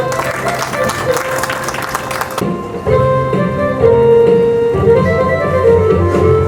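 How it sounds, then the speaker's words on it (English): An audience at an annual prize distribution event applauds participants taking the stage, dense clapping that then gives way to music with a voice singing over it. "A big round of applause for all the participants."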